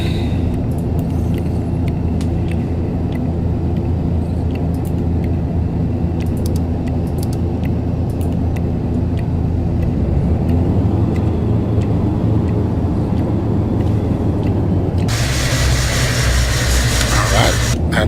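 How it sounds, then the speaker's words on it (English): Turboprop engine spooling up on an ATR 72-500 airliner in a flight simulator, a steady broadband rumble and whine that grows fuller, with a hiss rising sharply near the end and faint talk underneath. "Start engine 2."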